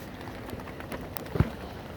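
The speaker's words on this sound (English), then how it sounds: "it's raining a lot more now." Heavy rain falling in windy weather, a dense continuous patter and hiss with a few louder drops and knocks, fairly faint overall, with no one speaking.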